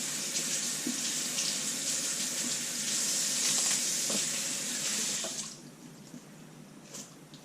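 Fresh cilantro is rinsed under a running kitchen tap, a steady close splashing rush that lasts several seconds and then cuts to a fainter trickle with a few drips, no talking.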